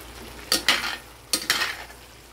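Chicken and cheese being stirred in a pan: two pairs of scraping, clattering strokes of a utensil against the pan, close and fairly loud over a faint background hiss, with no talking.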